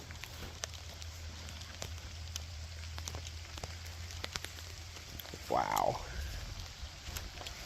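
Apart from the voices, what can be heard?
rain falling outdoors at Hopewell Furnace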